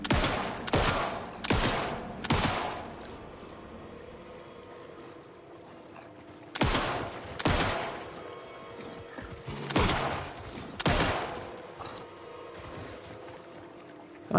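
Gunfire in the video game Alan Wake II, a series of sharp shots fired in quick bursts of two or three with short pauses between, loud against a quiet game background.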